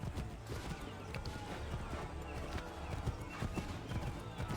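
Horse hooves gallop in a steady clip-clop through Assassin's Creed 3, a continuous rapid drumming of hoofbeats with occasional louder thuds, moderately close and alone with no voices.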